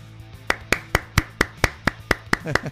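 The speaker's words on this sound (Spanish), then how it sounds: "Ahí, ahí, aplaudiendo, ánimos." Hand claps, about ten sharp, fairly regular strikes spaced roughly a quarter second apart, close and distinct over a low steady hum, with no talk.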